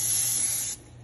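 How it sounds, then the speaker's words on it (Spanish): Cooking oil sprayed from a can onto a green bean and mushroom cream casserole, a close steady hiss that cuts off abruptly after under a second. "Le voy a echar un poquito de aceite en spray."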